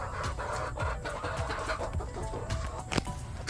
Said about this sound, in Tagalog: naglabas na po yung manok